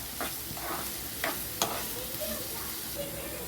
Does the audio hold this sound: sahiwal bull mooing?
no